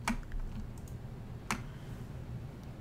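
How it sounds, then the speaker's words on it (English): Computer keyboard arrow keys are tapped twice, a couple of sharp close clicks spaced over a couple of seconds against a faint low room hum during quilt design work. "I'm going to move them with my arrow keys over to the left just a little bit"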